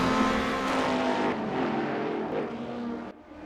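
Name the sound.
Mustang race car engine in a racing video game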